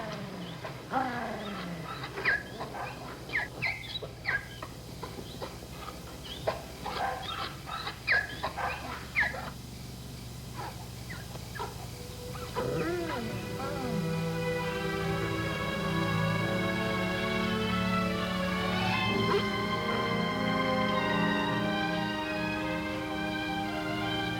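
A dog in a 1955 television drama whimpers and gives short yips and barks, then settles into long, drawn-out whines, all close and with no one speaking.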